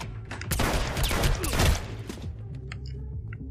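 Rapid bursts of gunfire in a strip club shootout in Hitman Absolution on Xbox 360, loud and dense early on, then thinning to scattered sharp shots and clatter.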